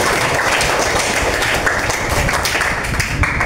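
Students in a classroom break into loud, dense applause, with many hands clapping at once in a steady, sustained burst that fills the whole clip.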